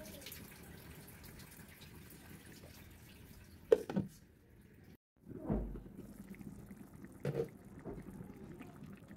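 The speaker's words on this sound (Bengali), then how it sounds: "সুন্দর মতো কষানোর জন্য অল্প একটু পানি দিয়ে দিলাম।" A small amount of water is poured into a pan of spiced beef for a lightly brothed beef jhura bhaji, giving soft splashes and a couple of brief louder pours against a quiet kitchen background.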